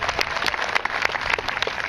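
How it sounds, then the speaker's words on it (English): A school audience at a leadership day event gives a speaker a round of applause, with steady mid-distance clapping from many hands continuing evenly throughout. "Let's give him a round of applause."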